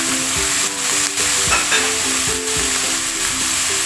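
Soy sauce hits a hot pan of sautéed chicken and sizzles loudly and steadily, with the scrape of stirring running through it. There is no talking.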